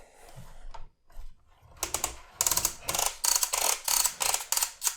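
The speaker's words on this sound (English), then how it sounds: "You do have the ratcheted thigh swivel." The ratcheted thigh swivel on a large Transformers Legacy Evolution Nemesis figure is turned, producing a close run of crisp, evenly spaced plastic clicks after a few softer handling sounds.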